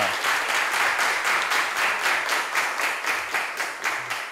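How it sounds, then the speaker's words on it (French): A television game-show studio audience applauds six contestants competing for the throne, clapping in a steady, even wash with a faintly pulsing rhythm that holds throughout. "Merci d'applaudir pour mes 6 prétendants au trône"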